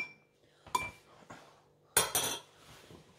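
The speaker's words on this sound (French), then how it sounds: "Je vais bien mélanger." A metal spoon clinks against a glass while sugar is stirred into milk, a few separate sharp chinks and a short scraping burst, close and fairly quiet with no talk.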